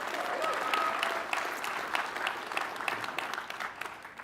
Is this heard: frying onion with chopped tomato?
no